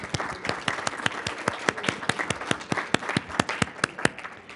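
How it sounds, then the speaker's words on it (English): Audience applause at a League of Women Voters school board candidates forum, a steady run of sharp claps from a moderate crowd lasting several seconds, fairly close and even in loudness. "Give each other a round of applause."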